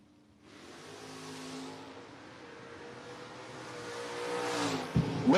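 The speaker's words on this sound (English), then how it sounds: "Jamie Cologne, 592, taking on Ray Barlow here tower side in the Mustang" Mustang drag race car launching and accelerating down the drag strip at a drag racing event, its engine note rising steadily and growing louder, with a sharp burst near the end.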